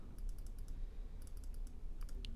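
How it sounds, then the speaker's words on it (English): Clicking of a computer mouse and keys while editing a design, in quick bursts of sharp, close, quiet clicks over a low room hum, with no talking. "you can probably hear crazy ASMR of me clicking"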